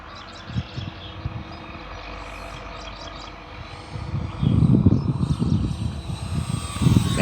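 A 1.1 m Arrows F4U-4 Corsair RC model airplane flying overhead, its electric motor a steady whine that swells louder and rougher as it passes near, then eases off, with wind buffeting.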